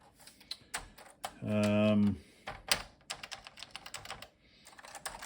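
Keys clatter on an Elektronika MS 0511 computer keyboard with its JCUKEN layout, a quick run of crisp close-up keystrokes interrupted briefly by a spoken voice before the tapping resumes.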